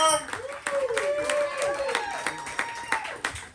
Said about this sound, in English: Start clapping, start clapping, start clapping, start clapping.